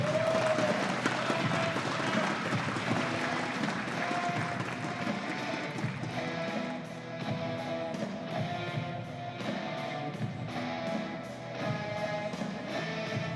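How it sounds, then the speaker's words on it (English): Spectators at the Lancaster Archery Classic women's open finals applaud archer Jennifer Winsenne, a sustained, moderately loud crowd clapping mixed with hall ambience and faint tonal background sound throughout. "Let's give her a big round of applause."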